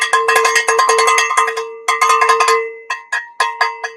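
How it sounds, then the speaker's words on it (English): Cowbell struck in quick, driving rhythmic bursts with short pauses, bright metallic tone ringing clearly and loud, played live with no talking over it. "He said more cowbell"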